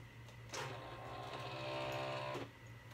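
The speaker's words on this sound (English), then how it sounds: "I'm going to send it to the cutter." A vinyl cutting machine works through glitter heat-transfer vinyl on a cutting mat, giving a close, faint mechanical whir and buzz that runs for about two seconds before stopping.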